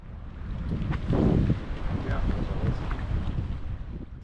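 Low rumbling motor of a small dinghy on the water in the Galapagos, with wind buffeting the microphone and water splashing close by.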